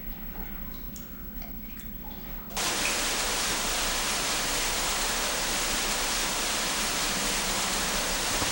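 An underground waterfall inside a humid, undeveloped cave roars in as a dense, steady wash of noise after a quieter opening of about two and a half seconds, then holds loud and continuous with no voices.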